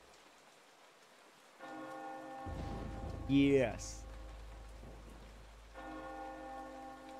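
A bell rings out in steady rain inside the video game Eternal Darkness: Sanity's Requiem, the tolling peaking briefly over a constant rain hiss, with a narrator's voice and a brief spoken reply nearby.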